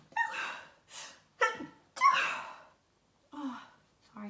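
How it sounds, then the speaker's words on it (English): Several sharp sneezes from a person, separated by short gaps and gasping breaths, close up and loud with no other sound between them. "Oh my god, I'm going to sneeze."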